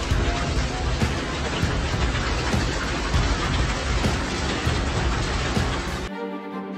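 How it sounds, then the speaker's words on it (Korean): Golf-ball-sized hailstones pound down in a dense, steady clatter of impacts with scattered sharper cracks, loud and continuous for about six seconds before cutting abruptly to a quieter tail. "골프공 크기만한 우박이 떨어지는 장면을 카메라로 촬영하기 시작했습니다."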